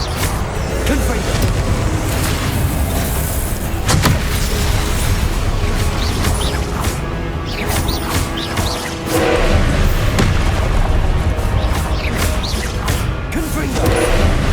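A busy fight in Hogwarts Legacy mixes repeated loud booms, crashes and thuds from Confringo blasting spells, with sharp impacts recurring over a dense, continuous background of battle noise.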